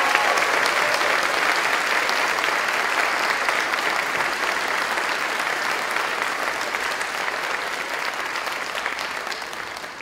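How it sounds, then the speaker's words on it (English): A large audience at a medical school commencement ceremony applauds steadily throughout, dense sustained clapping filling the hall at even loudness, fading slightly toward the end. "I'd like you to give them a round of applause right now."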